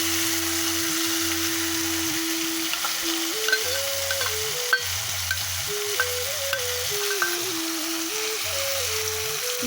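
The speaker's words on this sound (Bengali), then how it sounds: "এতে তোমার আদা লঙ্কা জিরে জিরে গরম মশলা সব কষাবে।" Ginger, chili, cumin and garam masala frying in a pan for a fish curry, a continuous loud sizzle with a steady hiss and occasional stirring scrapes, close by and without talk.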